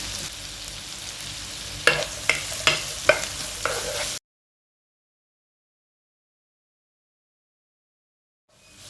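Two chopped medium onions fry in a pan for white kurma, sizzling steadily while a spoon stirs and knocks against the pan four times in quick succession, then silence follows.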